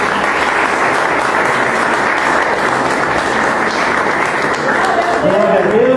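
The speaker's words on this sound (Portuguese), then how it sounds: "Aplauda o Senhor Jesus." Loud, steady applause from a church congregation during a worship service fills the whole stretch, a thick continuous wash of clapping, with a voice rising over it near the end.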